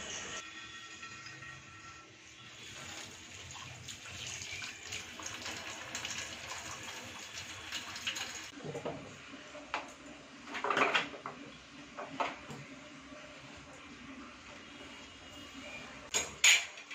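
Kitchen chores at home: dishes and pots clatter and water runs from a tap in scattered bursts over a steady background hum, with a few louder knocks and clinks.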